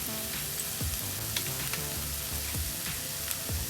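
Fish eggs being scrambled in a pan over a slow flame with turmeric and salt, giving a continuous soft sizzle broken by repeated scraping and stirring strokes, with no one talking.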